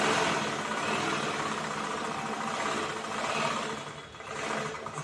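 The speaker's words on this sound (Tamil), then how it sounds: "இந்த எண்டு வரைக்கும் ஸ்ட்ரைட்டாக தைக்கிறோம்." Steady, continuous whir of a sewing machine stitching a straight seam on a blouse, running near and fairly loud for the whole stretch with slight dips in speed, no talking.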